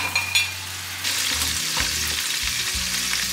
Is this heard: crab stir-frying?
yes